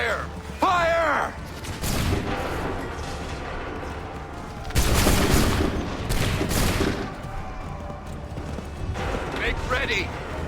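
Repeated musket volleys crack out in a battlefield scene from Assassin's Creed III Remastered, with bursts of ragged gunfire, heavy overlapping salvos and echoing crashes, while commands are shouted between the volleys.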